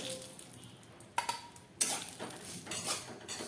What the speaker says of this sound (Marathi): आपली खसखस थोडीशी छानपैकी खसखस ही फास्ट भाजत असते